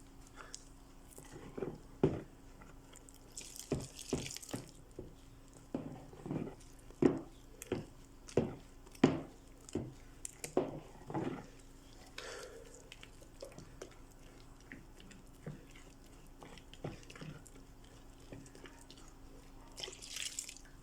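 Water is added to a batch of homemade transparent liquid soap, heard as a series of irregular, soft splashes and sloshing drips spread over about twenty seconds in a quiet room.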